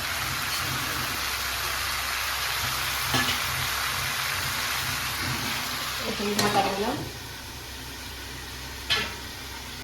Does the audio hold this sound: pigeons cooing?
no